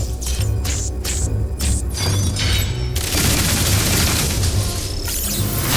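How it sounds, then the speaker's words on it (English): Multi-lock missiles fire in Metroid Dread, a dense barrage of booming blasts and crackling gunfire-like bursts over a constant low hum, loud and continuous throughout with no talking. "time to test out our new multi-lock missiles"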